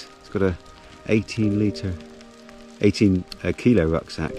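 Steady rain patters across open ground on a mountain hike in the French Pyrenees, a soft continuous hiss beneath someone talking close by.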